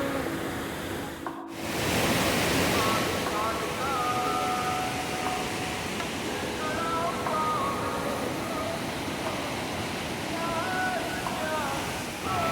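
A mountain river on the Kedarnath trek gives a steady, broad rushing roar of water that fills the whole stretch, with faint voices partly buried underneath.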